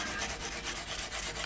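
Fret ends being filed on a Yamaha Pacifica 112 electric guitar: a steady, close rasping rub that carries on without a break, with no voices.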